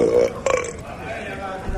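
A short burp rumbles up near the start, followed by a faint second one, in a quiet room.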